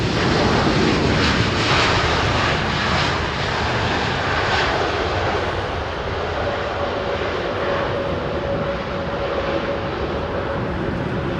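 An Airbus A320neo airliner arriving at London Heathrow, its engine roar loud and steady throughout, with a faint rising tone emerging near the end.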